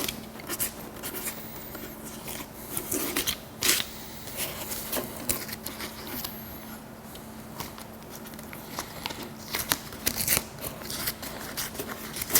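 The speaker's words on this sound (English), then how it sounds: "I'm gonna pull back a little bit of our tape now" Tape being peeled back from a Harley Davidson speaker lid, quiet close crackling and ripping textures in short irregular bursts over a faint background hum.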